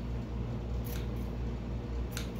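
Scissors snip a few times while a homemade display bust for a Wookiee mask is being made. The crisp cuts are close and spaced out over a quiet, steady background hum.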